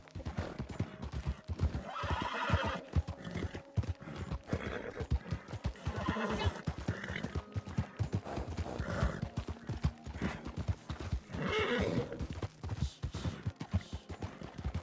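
Horse galloping in Red Dead Redemption 2, rapid rhythmic hoofbeats pounding steadily and close throughout, with whinnies and neighs breaking through now and then.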